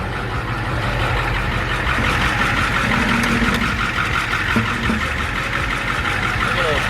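Car engine with a 1.8-litre motor idles steadily while warming up before an oil change, a continuous low rumble close by, with faint background noise.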